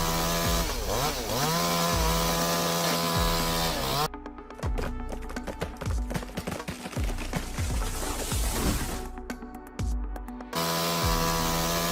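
A chainsaw cutting down a large tree, loud and close, with the engine note shifting as it bites into the wood, idling briefly before and after the cut.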